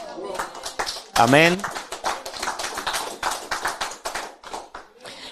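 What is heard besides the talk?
church congregation clapping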